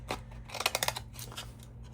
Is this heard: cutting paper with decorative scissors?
yes